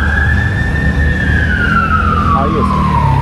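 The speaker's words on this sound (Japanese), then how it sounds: "救急車" An ambulance siren wails on a Beirut street, one long sweeping tone gliding slowly down in pitch, loud and steady over rumbling street traffic.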